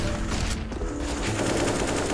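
Rapid gunfire in a Counter-Strike match cracks in quick bursts over a dense, busy game mix, loud and near, with no talking.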